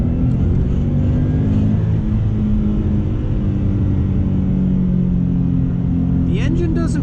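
A Subaru WRX engine hums steadily under load inside the cabin, its droning tone gradually climbing as it accelerates, with a voice speaking briefly near the end.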